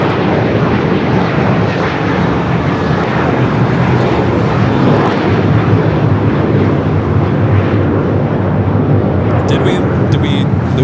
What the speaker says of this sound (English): We do have two heavies about to depart here on the south side.